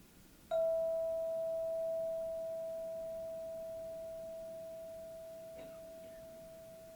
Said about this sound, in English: to focus entirely on the sound of the bell